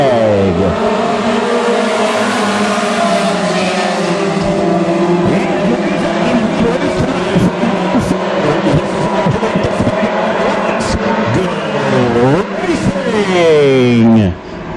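WISSOTA modified race cars roar at Ogilvie Raceway for the Harvest Cup, a dense, loud wall of engine noise with rising and falling revs as the field gets going, an announcer's voice running over it.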